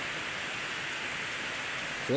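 Steady rain hisses down as a broad, even wash while the sun shines, moderately loud and unbroken, ending with a brief voice right at the close.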